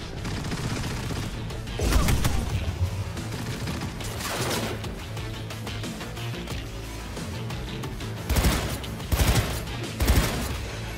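Rapid bursts of gunfire during a boss fight against Sandayu Oda in Cyberpunk 2077, loud and repeated in clusters over a dense game soundtrack, with heavier volleys near the start and end.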